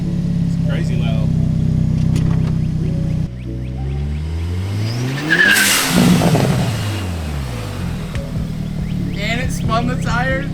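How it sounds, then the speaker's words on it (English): Hyundai Elantra N fitted with an SXTH Element AV6 blowoff valve, engine revving and accelerating hard as the tires spin, with rising and falling pitch sweeps, a sharp whoosh midway and people talking over it. "And it spun the tires, dude."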